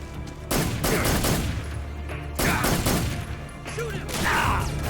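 Bursts of loud gunfire in the Metal Gear Solid 3 video game, several rapid volleys separated by short lulls, with game voices speaking faintly in between.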